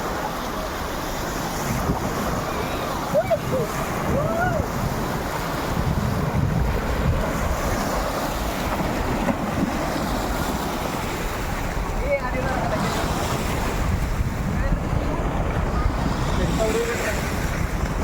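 Ocean waves wash at a beach amid a constant roar of wind buffeting the microphone, a steady broadband rush with a faint voice now and then.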